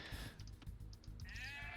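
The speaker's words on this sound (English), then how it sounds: "Looks like Palm actually found those sheep there" Sheep bleat in a real-time strategy game match, a few short, soft bleats repeating under steady background game sound.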